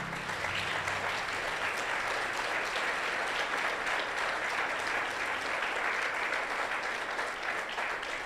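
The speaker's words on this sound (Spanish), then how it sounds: "Dale un aplauso al Señor por eso." A church congregation claps for the Lord in dense, steady applause that fills the room evenly throughout, with no voices standing out.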